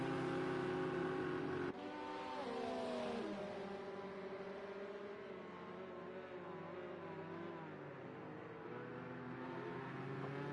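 Race cars in Project Cars 2, a Ford GT and a Porsche, with a steady engine drone, gear-shift pitch sweeps and a sustained whine at racing speed.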